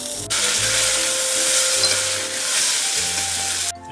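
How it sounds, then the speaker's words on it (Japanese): Plain pasta stir-fried in sesame oil with garlic sizzles loudly and steadily in a pan for several seconds, a close, continuous hiss that cuts off abruptly at the end, with no voices. "パスタ入れて炒めるだけ"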